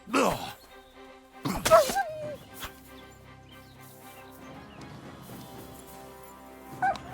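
Wolf snarls and yelps in Kingdom Come: Deliverance II, a sharp burst near the start and another around two seconds, then a faint snarl at the end over quiet ambient game music.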